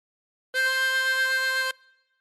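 A chromatic harmonica blown on hole 4 gives one steady, reedy note of about a second, bright with harmonics, played alone and close with a short fading tail.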